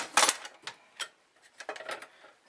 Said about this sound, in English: kettle back in place here just to make sure it lines up okay.